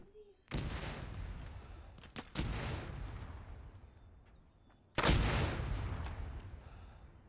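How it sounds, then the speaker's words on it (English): Incoming mortar fire in the combat game Arma 3: three heavy, booming blasts, two close together early and a louder one later, each rumbling and fading slowly over a quiet background. "Mortars inbound."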